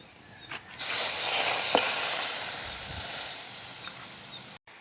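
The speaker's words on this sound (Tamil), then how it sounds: "இப்போ இதில் வந்து பால் 1/2 லிட்டர் ஊற்றிடலாம்" Half a litre of milk poured into a hot pan of flour (maida) for a milk pudding, giving a loud, steady sizzling hiss that starts abruptly and holds for several seconds before cutting off.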